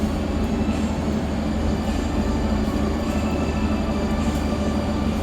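Argo Anggrek passenger train rolling into a station, a loud, steady rumble of wheels and carriages with faint rail clatter running continuously throughout.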